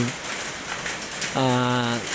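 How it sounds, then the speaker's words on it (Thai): Heavy rain pours down steadily outdoors in front of a house in Thailand, a dense wash of hiss, with a short harmonic call or voice-like tone rising over it near the end. "มีฝนตกแรงๆรัวๆมานะครับ"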